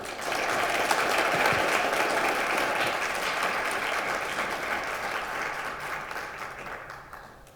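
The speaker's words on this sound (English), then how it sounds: "So give it our big applause to Amelia." An audience applauding a musician named Amelia at an anniversary evening concert, sustained, even clapping from many hands that stays full and steady before slowly tapering off, heard alone without speech.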